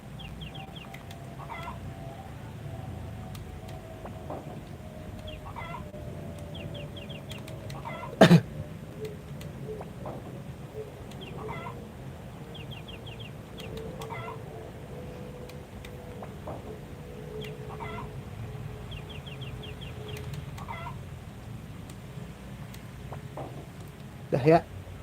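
Repeated short chicken clucks from a Harvest Moon Friends of Mineral Town farm, light game-style sound effects recurring under a steady background tune with a couple of brief sharper clicks.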